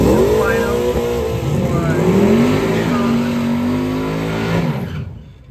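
At a night drag race, an Infiniti G37 launches and accelerates hard, its engine revving loud and close with rising, shifting pitch before the sound cuts off sharply; a crowd or voice murmurs beneath.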